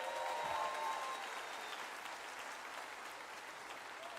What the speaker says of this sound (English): How about a round of applause for all our teachers?